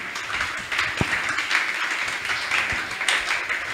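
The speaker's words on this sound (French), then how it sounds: "est-ce que nous acclamons le Seigneur Jésus?" A church congregation claps in acclaim of the Lord Jesus, a fairly soft, diffuse spread of applause with a few sharper claps standing out, heard alone without speech.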